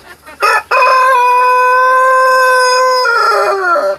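Rooster crowing close by, one loud, long sustained crow of about three seconds that trails off at the end, preceded by a brief clucking call.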